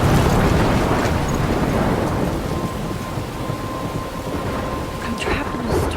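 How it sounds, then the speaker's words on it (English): Steady rain pours with rolling thunder in a stormy outdoor scene from the video game Life is Strange, a dense continuous roar that stays loud throughout. "I'm trapped in a storm?"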